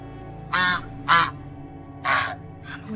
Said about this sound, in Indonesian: Ini ada angsa.